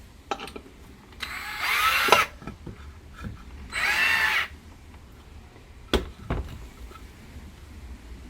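A power drill drives a screw through a pre-drilled hole in a wooden dowel rod during a camper van conversion: two short, loud whirring bursts, separated by quieter clicks and knocks of handling.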